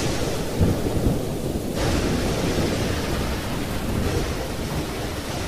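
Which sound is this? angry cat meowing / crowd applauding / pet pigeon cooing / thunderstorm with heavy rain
thunderstorm with heavy rain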